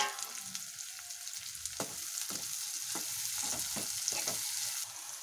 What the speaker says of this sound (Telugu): ఇప్పుడు ఆనియన్ మిర్చి అనేది వేసుకోవాలి ఫ్రెండ్స్